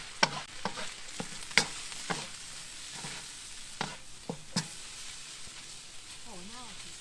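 Egg fried rice stir-fried in a pan, a steady soft frying hiss broken by sharp scrapes and clinks of a utensil against the pan at uneven intervals, with brief voice-like sounds near the end.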